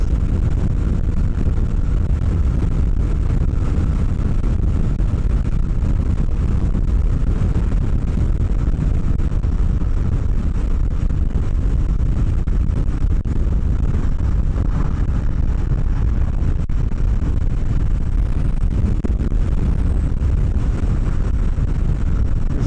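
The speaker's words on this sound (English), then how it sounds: "Wind is kind of pushing me around." Strong wind roars and buffets continuously around a rider on a 2025 Kawasaki Ninja 650 at highway speed. A loud, unbroken rush of noise covers a low engine drone and never lets up.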